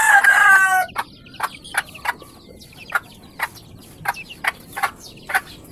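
A mother hen and her chicks cluck together, a burst of high chick peeping at first, then a steady run of short, sharp clucks about twice a second, close and fairly loud with no talk.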